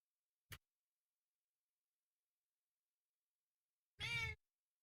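A single short meow from a cat comes through faintly, followed by a brief, clear meow a few seconds later amid near silence, with no talk.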